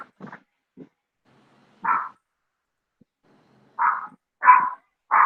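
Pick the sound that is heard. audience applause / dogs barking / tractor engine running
dogs barking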